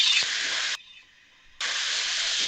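Food shallow frying in oil in a pan, a loud steady hiss and sizzle that cuts out briefly to near silence before returning just as strong.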